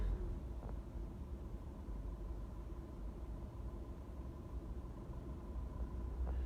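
Freeway traffic rumbles in a steady low roar heard from inside a vehicle, with engine drone and faint passing swells and no talk.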